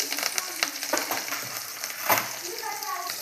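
Chopped green chillies, onions and curry leaves crackle and sizzle in hot oil in a pan, a close, steady frying hiss broken by the scrape of stirring, with no talking.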